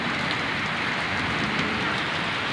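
Heavy rain falls in Santa Mesa, Manila, a dense, steady hiss of drops on surfaces that fills the whole stretch without pause, close and loud.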